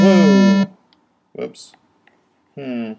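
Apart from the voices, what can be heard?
stuck synth note playing from iPad app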